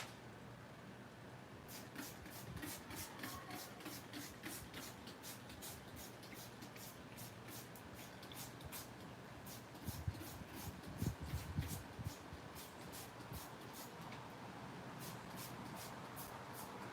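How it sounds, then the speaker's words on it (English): Water is sprayed inside a sculpture mold in a faint series of short, evenly spaced hissing bursts that repeat for most of the stretch, with a few soft knocks and handling noises midway. "Spray inside of here."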